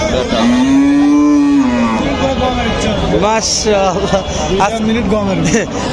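A Friesian dairy cow at a cattle market gives a long loud moo up close, followed by further lowing calls amid market crowd chatter and people talking.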